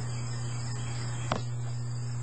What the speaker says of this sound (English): 6 crickets came into the house.